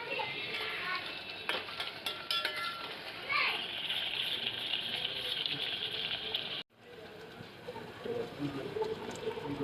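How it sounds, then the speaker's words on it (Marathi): Spice masala frying in a pan for village-style urad dal, a steady sizzle with occasional stirring clinks, under someone speaking and children's voices in the background. "आपला मसाला छान इथे आपण करपवून घेऊ छान तळायचा आहे इथे"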